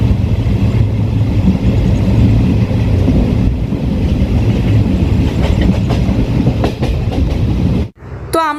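A passenger train on an overnight journey rumbles loudly and steadily over the rails, with rhythmic clatter and clicks throughout, then briefly drops away near the end.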